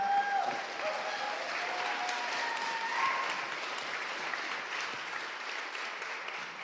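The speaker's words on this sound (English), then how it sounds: "Round of applause for Key." Applause from a gathered crowd at an evening memorial for transgender and gender-nonconforming lives lost, a steady wash of clapping lasting several seconds at moderate level with faint voices mixed in.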